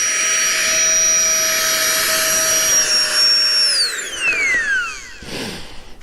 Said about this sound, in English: we're going to air up the ZenBivy light mattress with a flex tail pump